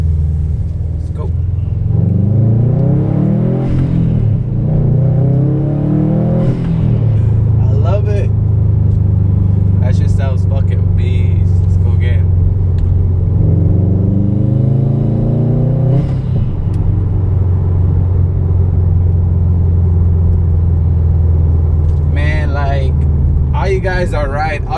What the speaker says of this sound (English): Hopefully you can hear it because I have this Tomei exhaust. It's just loud as fuck.